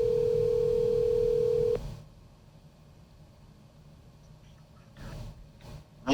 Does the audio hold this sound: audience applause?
no